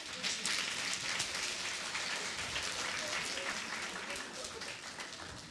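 A children's audience claps steadily at a puppet show during a regional gathering of puppet groups in Pesnica, a dense, close burst of applause that holds for several seconds and fades slightly at the end.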